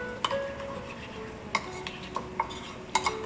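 Spice paste being stirred into frying onions for a Mauritian chicken curry, with a spoon scraping and clinking against the pan in several sharp taps over a faint background hiss.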